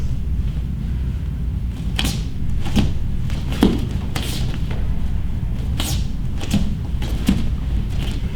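Heavy, deliberate footsteps landing hard during a workout drill: several spaced thumps mixed with sharp slapping impacts over a steady background, fairly close and loud.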